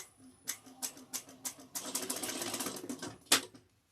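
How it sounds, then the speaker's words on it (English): A sewing machine bastes across the two ends of a fabric backpack triangle, running in short bursts of rapid stitching that build into a steady run before a sharp final clack and a stop. "I'm going to go across here to baste these two ends together, the two parts of the triangle"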